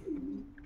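A vaccinated pigeon coos once, a short low throaty murmur close by and fairly quiet, with no talking.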